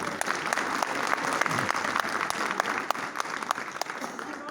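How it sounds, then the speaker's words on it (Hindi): Loud, sustained audience applause at a live comedy show, dense rapid clapping from a large crowd holding steady throughout, with no pauses. "एक बार जोरदार ताली।"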